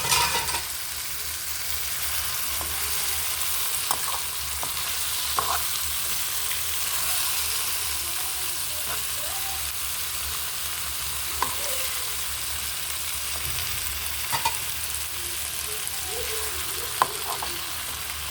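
Cauliflower, capsicum, potato and eggplant frying on lowered heat, a constant loud sizzle running throughout with occasional soft scrapes and knocks as the vegetables are stirred.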